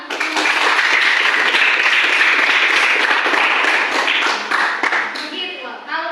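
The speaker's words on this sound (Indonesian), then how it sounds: "Kita beri tepuk tangan" Classroom applause for a student presenter during a teacher performance assessment, a dense, loud wash of many hands clapping steadily before tapering off near the end.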